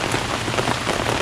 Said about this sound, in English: it started to rain pretty hard. It's easing up a bit now